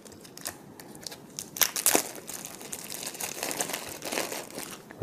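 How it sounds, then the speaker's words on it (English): Cutting open packaging of trading cards with scissors, close crinkly plastic crackling with a couple of sharper snips partway through, continuing under a steady rustle. "Let's cut that open."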